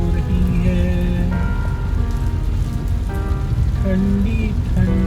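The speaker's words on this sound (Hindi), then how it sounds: "बारिश बारिश हो रही है," Steady, loud rain pours down continuously outdoors, with melodic tones of music or singing carried over the dense patter throughout.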